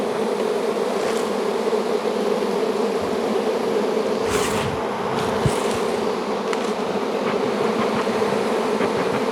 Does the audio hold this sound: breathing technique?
no